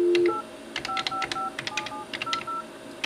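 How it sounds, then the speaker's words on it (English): Telephone keypad DTMF dialing tones on an office phone system placing a call, a quick series of short, loud beeps of varying pitch after an opening tone, with no talk. "Now I will make an inbound call"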